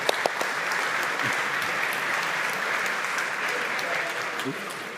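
A forum audience gives a round of applause for Francesco Tramontin, steady and fairly close, with a few distinct claps and faint voices mixed into the even clatter throughout.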